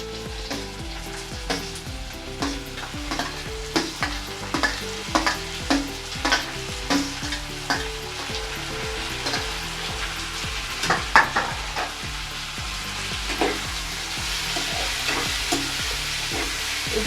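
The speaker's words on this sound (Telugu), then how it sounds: "టమాటోస్ వచ్చేసి కొంచెం ఫ్రై అవ్వాలండి, మగ్గాలి అనమాట." Tomatoes fry with keema in a pan, giving a steady sizzle broken by regular rhythmic scrapes and knocks of stirring, close and fairly loud, with no voices.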